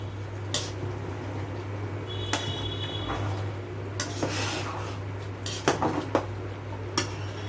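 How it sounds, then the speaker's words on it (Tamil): Metal cookware clanks as a dosa tawa is set on a stove in a home kitchen during prawn biryani prep, with scattered sharp clinks and scrapes over a steady low hum. "நான் தோசை தவா ஒரு அடுப்பில் போடுறேன்"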